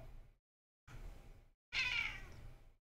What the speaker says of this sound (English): admire a beautiful kitty.